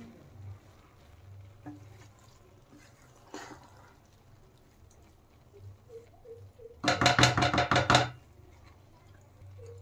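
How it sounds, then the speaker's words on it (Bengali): A spoon stirring aloo matar pulao in a pot, a quiet scrape early on, then a burst of rapid, loud scraping and knocking near the end over a faint low background. "এখন একটু নেড়ে দিচ্ছি"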